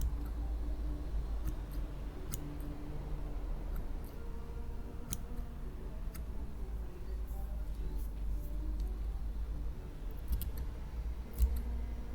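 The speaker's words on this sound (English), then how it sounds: "I'll switch to another pair of scissors" Repeated sharp snips of scissors cutting hair over a steady low hum, irregularly spaced clicks continuing throughout.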